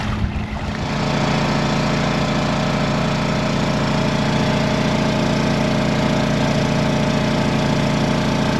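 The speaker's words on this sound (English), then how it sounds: "Running the generator, so I'm using 530 RPM about" A boat's generator engine runs steadily at about 530 RPM, a loud, continuous drone with a strong low hum that settles in after a brief start.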